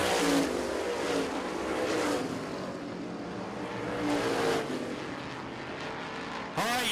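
Supermodified race cars roar around the Lancaster Motorplex oval during ISMA-MSS heats, engines rising and fading as they pass, a loud, continuous blur of racing noise with no voices.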